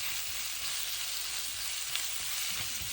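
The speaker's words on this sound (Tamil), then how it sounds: "இதுவே இந்த வெங்காயம் இஞ்சி உள்ளியோட இந்த சில்லி ஃப்ளேக்ஸும் வதங்கி வரட்டும்." Onion, ginger, garlic and chili flakes sauté in a pan for apple chutney, giving a steady, dense sizzle with faint stirring scrapes throughout and no voices.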